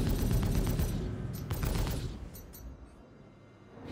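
Weapons fire blasting an enemy ship in the Star Citizen space game, a dense rumbling barrage of rapid shots that fades out over a few seconds, with brief sharp bursts as it dies away.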